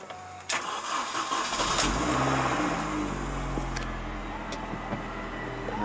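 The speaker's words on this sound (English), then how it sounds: "So if I turn the car over then" A 2016 Mini Convertible 1.6 Cooper S with 168 bhp cranks and fires, then settles into a steady idle, close and loud, with no one talking.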